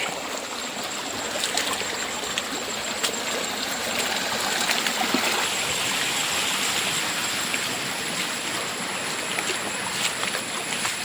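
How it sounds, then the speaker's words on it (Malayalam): Steady rushing water flows continuously, a broad unbroken wash of sound from a nearby monsoon-fed stream with no voices. "ഇവിടെ ഇങ്ങനെ വെള്ളം ഒലിച്ച് പോകുന്നുണ്ട്"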